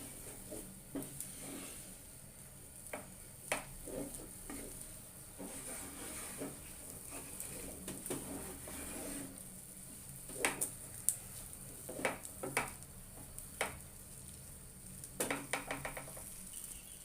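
Thick barfi mixture being stirred in a pan, giving quiet scraping clicks and soft sizzling that grow sharper and more frequent toward the end, with no talking.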